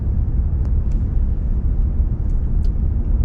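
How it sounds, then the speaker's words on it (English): A garbage truck pulls away along a street in Bar Harbor, Maine, its low, steady engine rumble filling the whole stretch with little change in loudness. "the garbage truck is turning off"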